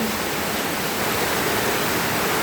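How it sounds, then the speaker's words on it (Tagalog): Heavy nonstop rain pours down amid floodwater during a typhoon, a dense, steady hiss of falling water that is loud and unbroken, with no voices. "Grabe yung ulan. Walang tigil yung ulan dito sa amin."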